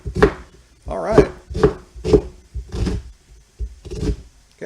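Onions are chopped on a cutting board while cooking spicy pork pepper noodles, with about eight crisp knife strikes falling in a steady rhythm, close and distinct, each one a sharp thud.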